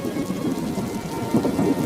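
Steady rain hisses close by while low thunder rumbles underneath, with a slight swell in the storm noise partway through.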